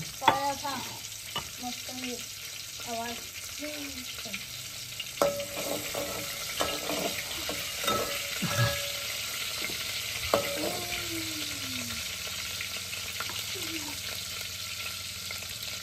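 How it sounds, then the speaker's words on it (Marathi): Garlic sizzles steadily in oil in a pan, with stirring and scraping sounds on top and some faint, sporadic background voices. "लसूण बिसून टाकली मस्त तेलात"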